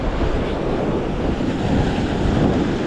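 Ocean waves surge and wash continuously onto the shore, with a steady roar of surf and wind buffeting the microphone throughout.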